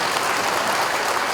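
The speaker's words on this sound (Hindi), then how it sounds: "ताली बजाइए" An audience at a memorial event in Uttarakhand breaks into steady, dense applause, a continuous wash of many hands clapping at once.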